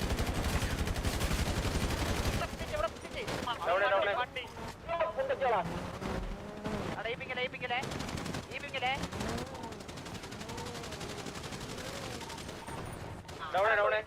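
Rapid bursts of video game gunfire crackle throughout, mixed with someone talking excitedly over the shots.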